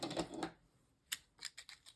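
Crafting scissors snip through a strip of wallpaper at close range, giving several short, crisp cuts in an uneven rhythm after a brief rustle of paper handling.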